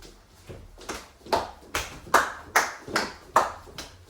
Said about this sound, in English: while running, we will be clapping to the beat